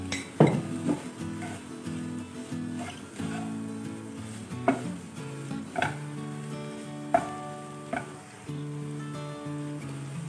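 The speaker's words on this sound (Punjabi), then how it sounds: "ਬੜੀਆਂ ਨੂੰ 3-4 ਮਿੰਟ ਤੜਕੇ ਦੇ ਨਾਲ ਮੈਂ ਇੱਦਾਂ ਪਕਾ ਲਿਆ ਹੈ" Soya chunks cooking in a spiced tempering in a pan sizzle softly beneath repeated metallic clinks and scrapes of a spoon against the pan, the strikes spaced every second or two.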